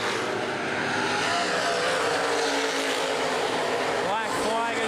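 Open-wheel modified race cars roar around the Baer Field Speedway oval in a steady, loud engine wash, with a rising and falling whine near the end as cars pass. A voice talks over the racing.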